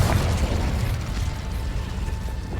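The Confringo spell fires a fiery blast in the game Hogwarts Legacy. A loud, dense, roaring explosion fills the whole moment with steady crackling energy and no clear break.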